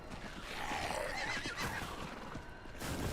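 A horse in the Diablo 4 video game lets out a loud, close whinny with hoof clatter underneath, set against dense game ambience and nobody speaking.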